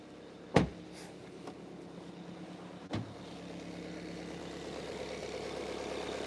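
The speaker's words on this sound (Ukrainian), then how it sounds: "Двигун тут також працює без жодних проблем." A Skoda engine idles steadily at low volume in a parking lot, with a couple of sharp clicks or thumps near the start and no voices.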